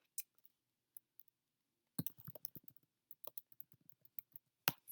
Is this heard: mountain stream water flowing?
no